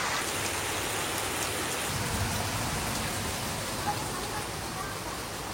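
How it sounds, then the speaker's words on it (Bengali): Heavy, unbroken rain pours down on a rainy festival day, a dense steady wash of drops drumming on surfaces nearby with no pauses. "বৃষ্টি হচ্ছে, কন্টিনিউয়াসলি বৃষ্টি হয়ে যাচ্ছে।"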